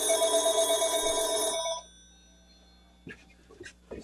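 A telephone bell rings loudly and close in a rapid trill for about a second and a half, then stops and leaves near-silence before a few brief faint voices and knocks.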